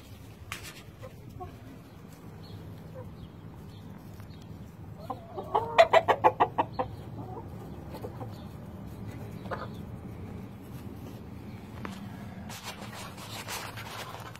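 Olive Egger hens cluck in a short rising burst of rapid calls midway through, with softer scattered clucks and farmyard ambience before and after.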